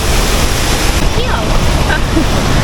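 Steady roar of Changey Falls waterfall near Kolakham village in Kalimpong, with spray in the air, a broad loud rushing wash filling the whole clip, with faint voices partly buried beneath.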